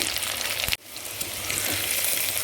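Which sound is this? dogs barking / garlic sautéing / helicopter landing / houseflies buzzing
garlic sautéing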